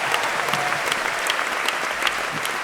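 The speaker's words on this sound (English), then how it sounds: "I'll applaud that, won't you?" Audience applause fills a hall at a 2023 SOURCE Hall of Fame induction ceremony, steady dense clapping from a large crowd throughout, fairly close and even in loudness.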